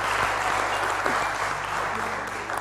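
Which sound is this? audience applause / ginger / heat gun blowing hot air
audience applause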